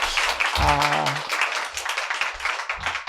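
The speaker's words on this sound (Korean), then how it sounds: "우리 같이 환영의 박수 해주시면 좋겠습니다" A church congregation claps in welcome after a baptism at an Easter service, a short burst of applause mixed with voices nearby.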